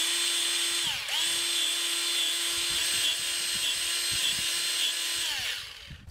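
A Milwaukee M12 cordless grease gun whirs continuously while being purged, a loud, close motor drone with a brief dip in speed near the start and a slight fade at the end.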